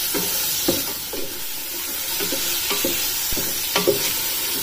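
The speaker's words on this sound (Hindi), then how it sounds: "मटन को अब इसमें फ्राई कर लेना है।" Mutton frying in a pan for an arvi gosht curry, with a steady sizzling hiss and repeated scraping stirs of a spoon against the pan, close and with no talking.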